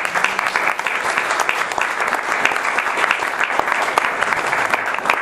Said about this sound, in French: je vous propose d'applaudir déjà nos interventions